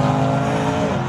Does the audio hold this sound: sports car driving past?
yes